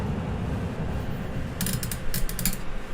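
Creaking and ratcheting from a microphone boom arm in need of lubrication, a few short dry squeaks clustered near the end over steady low background noise.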